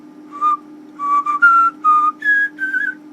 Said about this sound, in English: Whereas if you whistle on the in-breath